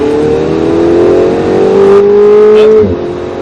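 A car engine revs hard under throttle on the Speed Vegas track, its pitch climbing steadily in a loud, close whine before the throttle lifts and the note drops away near the end.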